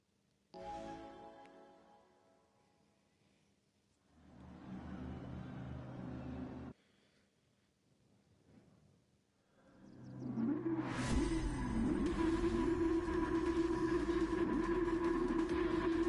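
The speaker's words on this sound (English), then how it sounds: "Ford GT sounds hilarious on the back." Ford GT engine in a racing video game, heard from behind: a short rev, a longer steady drone, then a loud sustained roar building to full throttle and holding there.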